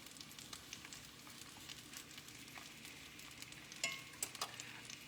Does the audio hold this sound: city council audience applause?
no